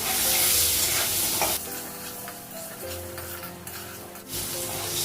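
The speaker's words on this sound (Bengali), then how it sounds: "আলুটা ভেজে নিলাম গ্যাসটা কমিয়ে দিয়েছি কড়াইটা গরম হয়ে গেছে তেল দিয়েছি" Potatoes fry in hot oil in a wok over low gas, giving a close, steady sizzle with occasional stirring scrapes and a brief louder burst at the start and near the end.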